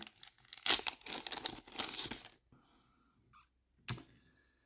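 A Star Wars Legion card for Maul is pulled from its packaging, with close crinkling, rustling and small clicks for about two seconds. After that come a quiet gap, a single sharp tap and then near silence.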